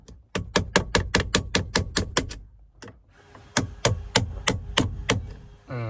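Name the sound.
Snap-on screwdriver used as a hammer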